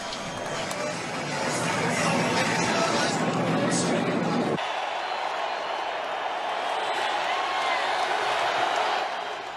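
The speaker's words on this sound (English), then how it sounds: "Listen to the crowd. Listen to the roars." A packed stadium crowd at the Daytona 500 roars and cheers, a loud dense wash of noise that drops to a softer, sustained rumble midway, with a voice speaking over it.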